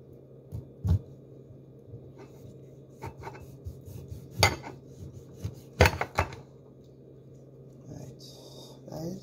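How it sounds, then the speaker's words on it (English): A knife slices a lemon for ginger lemon green tea, making several sharp cuts and knocks on a board over a steady low background hum. The cuts are close and irregularly spaced. "So I'm just gonna slice my lemon."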